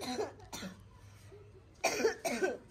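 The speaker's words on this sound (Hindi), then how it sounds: "ये चाची की खांसी कभी ठीक ही नहीं होती" A woman coughs in several harsh bursts, two short ones early and a louder double burst near the end, fairly close in an indoor family setting with no talk.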